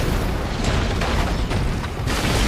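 Movie-style destruction as a kaiju wrecks a bridge in San Francisco: dense, continuous rumbling with repeated booming crashes and debris bursts, loud and sustained throughout without a break.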